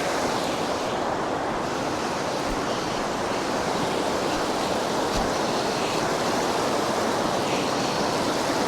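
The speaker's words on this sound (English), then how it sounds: "So this is the part of the video where we just give you free ASMR, as the brook just sounds great." John's Brook in the Adirondacks rushes and babbles steadily, a dense continuous wash of flowing water close by with no pauses and no voices.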